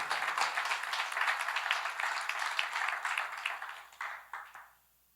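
Congregation clapping after a Spanish-language church sermon, a dense moderate burst of hands that holds steady for several seconds and then tapers off to silence near the end.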